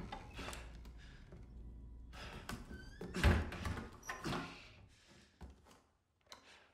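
Door sounds from Resident Evil 4 gameplay: a series of heavy thunks and mechanical clatters, with a couple of louder knocks in the middle, separated by short quiet gaps.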